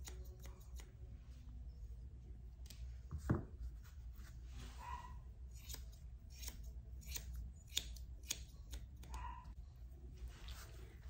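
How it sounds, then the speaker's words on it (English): Grooming scissors snip the hair around a Yorkie's face in a series of quick, close metallic cuts. A louder snip stands out among them, with faint rustling and combing between the cuts and no speech. "Comb this hair on the sides down and trim it"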